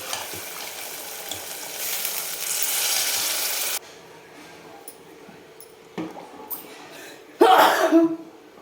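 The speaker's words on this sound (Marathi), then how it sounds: "बघा असा ठसका आला पाहिजे." Frying mutton in a spicy chili curry sizzles loudly at first, then a few sharp coughs from the pungent fumes break through near the end over quieter cooking noise.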